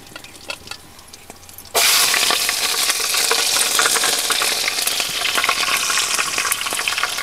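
Potatoes drop into hot oil already holding cumin seeds and cloves, and a loud, steady sizzle bursts in after a quiet moment and keeps crackling without pause, with a few small clinks of stirring.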